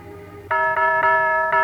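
A doorbell rings in a radio drama, sounding four bright, bell-like chimes in quick succession, loud and close with no talk over it.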